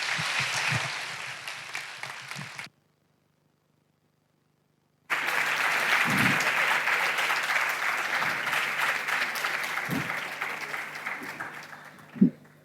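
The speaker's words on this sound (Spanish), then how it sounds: "un fort aplaudiment" Applause from the audience at a lecture by historian Enzo Traverso, steady clapping that breaks off into a short silence, then resumes and carries on, fading slightly toward the end.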